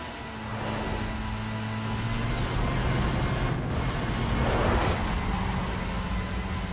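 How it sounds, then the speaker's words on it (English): Car engine in the racing game Need for Speed Most Wanted (2005), a sustained droning roar with steady tonal hum that swells gradually toward the middle and holds loud to the end, no voices. "So it's not just the car that we're hearing."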